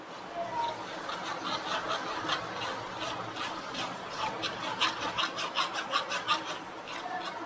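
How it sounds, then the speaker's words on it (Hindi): Ground tomato paste pressed and scraped through a sieve, giving steady close rubbing and rasping strokes that grow more rhythmic toward the end, with faint background hum. "तो अब हम इसको छलनी से अच्छी तरह से छान लेंगे, जो टमाटरों के बीज और उसके छिलके बाहर निकल आए।"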